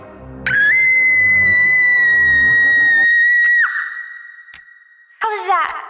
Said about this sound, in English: Can I scream? Okay,